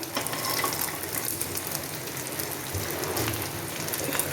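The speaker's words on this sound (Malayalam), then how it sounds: "ഇനി നമുക്ക് കറിവേപ്പില ഇട്ട് കൊടുക്കാം" Curry leaves dropped into a hot pan while making coconut chutney give a steady, fairly close sizzle that holds without pause from start to finish.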